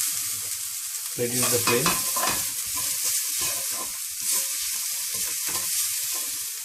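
Ginger, garlic and green chilies sautéing in a pan for an Indian broccoli and mushroom soup, with a steady close sizzle and stirring scrapes throughout, and a short spoken instruction near the start.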